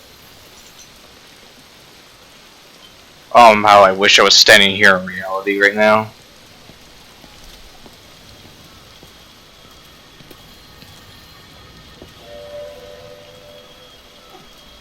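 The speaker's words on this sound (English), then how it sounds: "It's raining." Soft, steady rainfall from the video game Everybody's Gone to the Rapture patters in the background while a person speaks briefly in the middle, then the quiet rain continues on its own.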